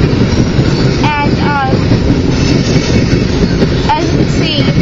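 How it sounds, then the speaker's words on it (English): A mixed freight train switching tracks rumbles past in a steady, loud roar, with a few brief high-pitched wheel squeals as the cars roll over the tracks. "it's a mixed freight train, yes. Switching tracks by the looks of it."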